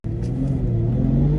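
Ferrari 812 V12 engine and gearbox while driving, a loud, steady close-up drone with rising harmonic tones as the revs build, no voices.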